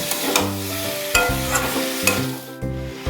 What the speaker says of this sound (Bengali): ভেজে রাখা চিংড়িগুলো দিয়ে দিচ্ছি, দিয়ে আরও কিছুক্ষণ আমি কষাবো যাতে চিংড়ির মধ্যেও মশলা ঢোকে